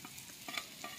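Egg is mixed into potato curry in a pan, a brief faint hiss of frying with soft rhythmic scrapes of the spoon, quiet and close.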